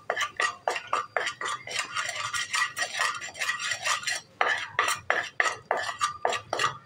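A spoon or utensil scrapes and clinks rhythmically against a pan while a salted mixture for roasted makhana chaat is stirred, close and steady, with short pauses between strokes.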